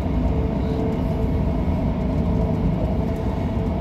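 Inside a moving EMR class 158 passenger train, unit 158863, a steady, loud rumble of wheels and engine fills the carriage without pause.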